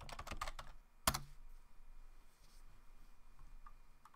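Fingers type a password on a computer keyboard at a sudo prompt during a Haskell Stack install: a quick cluster of clicks, one sharp loud keystroke, then sparse faint taps.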